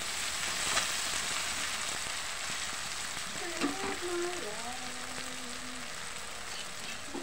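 Food with tomatoes is stirred in a frying pan, giving a soft, even sizzle with a few faint scrapes, and a brief voice-like tone rises midway.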